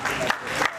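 An audience at a pharmacy conference gives a short burst of dense applause for a doctor being honoured, a steady wash of clapping from a crowd that is heard only briefly.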